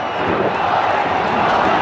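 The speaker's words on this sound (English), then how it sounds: "They're all already going crazy, Brett, in anticipation." Packed cricket crowd at the MCG roaring in anticipation, a dense, steady wall of cheering and shouting with no breaks.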